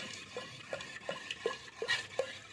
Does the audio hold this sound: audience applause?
no